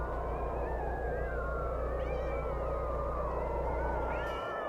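Synthetic cat meows and wavering caterwaul cries from an old college radio aircheck on cassette, sliding and overlapping continuously over a steady low hum at moderate level.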